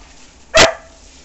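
A dog lets out one short, sharp bark close by, brief and loud against an otherwise quiet background.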